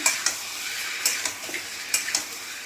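Vegetables sautéing in a pan, with lau data (bottle gourd stems) among them: a steady sizzle broken by several sharp clinks of a spoon stirring against the pan, close and clear, with no talking.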